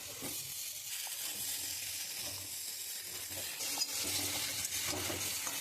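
Chopped snake gourd goes into a pan of frying potatoes and spices, setting off a continuous sizzle with stirring and scraping, and the frying grows louder near the end.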